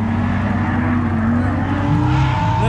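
A Nissan Silvia drift car at a Friday night drift event at Lanier Raceplex gives a loud, close, steady engine drone that rises slightly in pitch as it goes by.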